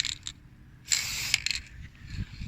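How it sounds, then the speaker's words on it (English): An aerosol spray can sprays a light coat onto a resin broken-glass project: one short, close hiss of about half a second, with faint handling clicks around it. "so much temptation to carry on spraying"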